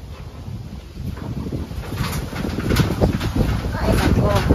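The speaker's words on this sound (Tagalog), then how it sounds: "Grabe hangin dito ba eh." Strong wind buffets the microphone in a steady, rising roar with gusty low rumble throughout, building louder toward the end; a person talks over it.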